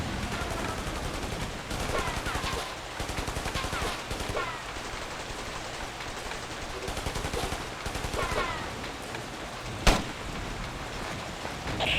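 Gunfire in the Ghost Recon game crackles in dense, rapid bursts against a hissing, rain-like background, with one sharp louder shot standing out late in the sequence.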